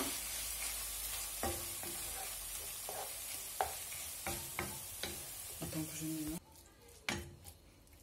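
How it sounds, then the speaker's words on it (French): Spoon stirring grated cheese into cooked kefta in a pan, soft scraping strokes over a continuous sizzle that drops away near the end, leaving a few quieter clinks. "Je rajoute le fromage râpé. Je mélange bien."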